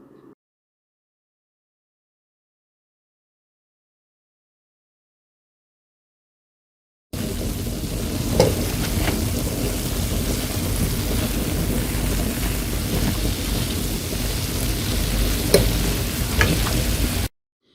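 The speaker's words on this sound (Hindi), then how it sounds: "अब डोनट फ्राई हो गए हैं, बहुत प्यारा गोल्डन कलर आ गया है" Homemade soft, fluffy donuts deep-frying in a pan of moderately hot oil, giving a steady, dense bubbling sizzle that starts abruptly and runs continuously with a few brief louder crackles, no voices.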